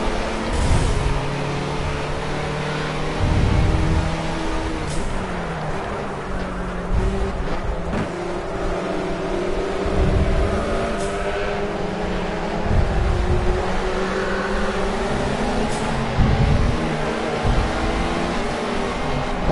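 A Ford Sierra Cosworth race car drifting under power oversteer at Spa, engine roaring loud and close from on board, revs rising and falling in repeated surges with the drone held throughout.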